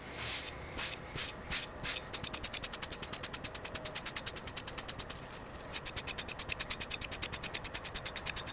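Scotch-Brite pad rubbing the finish on a forged ram's horn handle knife blade, a rapid rhythmic back-and-forth scrubbing close by, a few slower strokes then quick regular strokes with a short pause midway.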